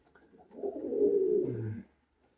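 A single homing pigeon gives one low, throaty coo lasting about a second and a half, close and soft, heard alone without talk.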